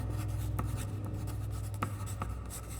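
A pencil scratches across a paper pad in short strokes and taps, steady and close, over a low constant hum, with no one talking.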